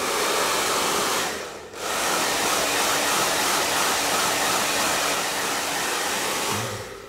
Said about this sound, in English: so we can use the blow dryer,